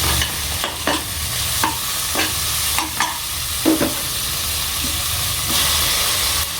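Onions and curry leaves sauté in a hot pan for bottle gourd curry, giving a steady loud sizzle and hiss with repeated spoon stirring and scraping throughout.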